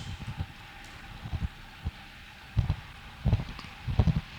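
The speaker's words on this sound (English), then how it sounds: "I can't stand this wind." Wind buffets a microphone on a cyclist riding a crit-racing training session, making low rumbling gusts that come and go in uneven bursts over a quieter background.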